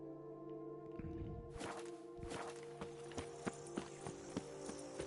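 Roach, the horse in Witcher 3, walks with steady clip-clop hooves, close and clear over a low ambient game hum, the regular steps settling into an even rhythm.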